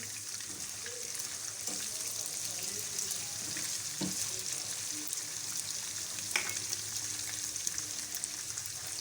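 Chicken fries with turmeric and crushed chili in a pan, giving a steady, soft sizzle with occasional stirring scrapes throughout.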